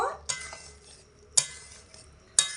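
Besan and potato vegetarian curry stirred in a pan after adding garam masala powder, three sharp metallic clinks of a spoon against the pan spaced about a second apart over a quiet background.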